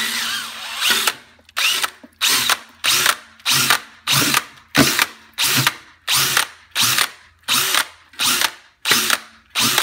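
A power drill shredding an 8-pound pork shoulder whirs in about a dozen short, evenly spaced bursts, each a loud rising whine followed by a brief pause.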